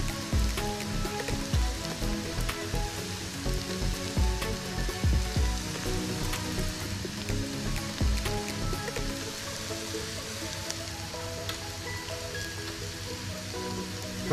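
Chillies, turmeric, salt and homemade onion-garlic masala frying in a pan, a steady dense crackling sizzle with scattered louder pops, close and continuous with no talk.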